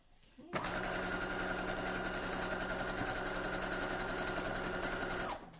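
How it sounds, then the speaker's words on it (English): A sewing machine starts abruptly and stitches quilt block pieces in a fast, even, close-up rattle for about five seconds, then stops. "I'm going to then take those back to the machine and stitch those"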